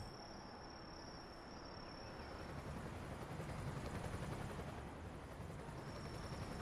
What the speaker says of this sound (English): I can hear the helicopter.